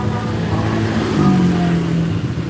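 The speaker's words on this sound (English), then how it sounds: "There's all the scooters chugging along." Scooters chug along a busy street in Vietnam, a steady, loud wash of small engines with one passing motor whose pitch rises and falls in the middle.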